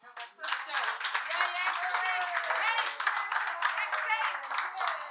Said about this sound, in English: please put your hands together for the head of investment at investSA Gauteng, Mrs. Koketso Damali